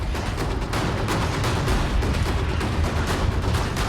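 Rapid booming blasts and rumbling bursts from controlled explosions triggering an avalanche at a Russian ski resort crowd together in a loud, continuous barrage with a deep, echoing low end.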